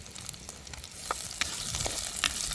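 Curry leaves and pandan leaves sizzle in a frying pan, giving a soft, steady crackle with scattered faint pops and a few utensil scrapes, close but quiet.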